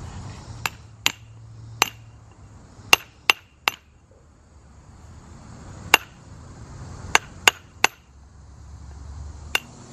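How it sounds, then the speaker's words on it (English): Sharp metallic strikes of a hammer on stone, about a dozen irregularly spaced ringing taps, fairly close, with quiet gaps between. "I'm gonna hammer on a rock."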